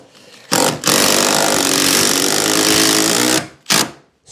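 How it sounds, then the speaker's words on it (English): Power screwdriver driving a screw down through the thermal break of an aluminium bifold door frame on a garden room, a loud sustained whirring buzz for about three seconds between short bursts, close up. "Screwing down through the thermal break."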